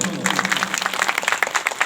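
A crowd at a Sarna prayer gathering applauds for Hari ji, a community president, with steady dense clapping throughout a short burst, close and moderately loud.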